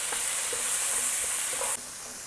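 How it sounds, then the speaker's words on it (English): Squid stuffing in a hot pan for Mangalorean-style stuffed squid sizzles steadily while a spoon gives it a quick stir, with faint scraping taps under the hiss; the sizzle drops slightly near the end. "Just a quick stir"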